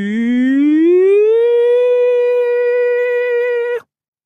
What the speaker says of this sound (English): It sounded like one of those air raid sirens you hear in a war movie when enemy bombers are approaching